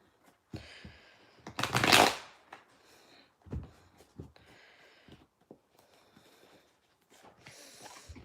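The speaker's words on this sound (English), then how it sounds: "I'm going to just pull some cards and see what I get" Tarot cards shuffled and cut by hand in quick riffling bursts, the loudest flurry near the start and softer slides and taps afterward, close and fairly quiet, with no talking.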